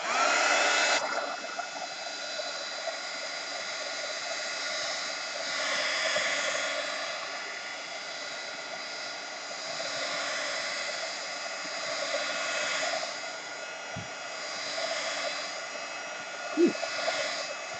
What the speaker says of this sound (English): when drying things with a hot heat gun, don't put your hand there because it's a little bit warm